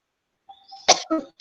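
A faint breathy sound, then a few short, sharp coughs close to the microphone during a webinar.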